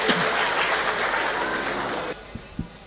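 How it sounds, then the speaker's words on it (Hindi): Audience at a Hindi poetry recital (kavi sammelan) gives sustained applause that cuts off sharply after about two seconds. A couple of faint thumps follow in the quiet. "एक बार मुझे पुनः अपनी तालियों से बताएं।"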